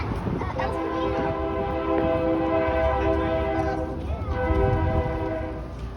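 A train rumbles past while its horn sounds a long chord that holds for several seconds, close and prominent over the rolling rail noise.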